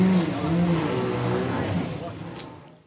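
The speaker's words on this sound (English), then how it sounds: "you can see out on the track now our GTC and the SupaCup cars coming out" GTC and SupaCup race cars come out onto a circuit, their engines droning and shifting pitch in the background while a commentator talks over them, with the engine sound fading toward the end.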